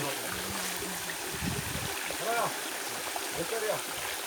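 A waterfall and stream flow in a steady broadband wash on a hot-season holiday outing, with people talking over the water.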